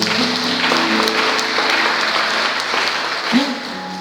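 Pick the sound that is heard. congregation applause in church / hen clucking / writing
congregation applause in church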